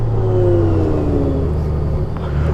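A 2018 Honda Goldwing 1800 DCT motorcycle slows from speed, its engine note steadily dropping in pitch under loud wind rush, heard from the rider's position.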